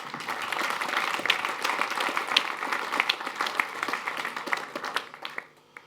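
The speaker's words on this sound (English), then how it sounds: "I'd like to have a big round of applause for these fabulous sponsors who pay for this event" Conference audience applause for event sponsors: a warm, steady spread of many hands clapping that gradually thins toward the end and fades out.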